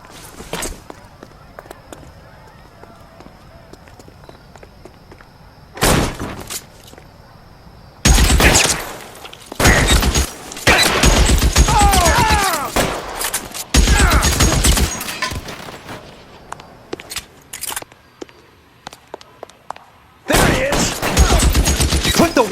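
Gunfire erupts in the L.A. Noire video game, with loud bursts of rapid automatic fire and single shots in several clusters separated by quieter gaps, while voices call out between the volleys.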